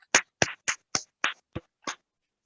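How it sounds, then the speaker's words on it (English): Seven sharp, evenly spaced claps ring out close and loud, then stop, with no voices alongside, a sparse burst of hand-clapping at a New Haven and Hamden candidates assembly. "Let's all have a big round of applause"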